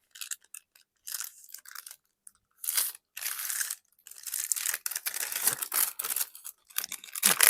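A paper journal's back page being folded by hand, a run of crisp crinkling and crunching bursts separated by short silences, close and fairly quiet, with no talking.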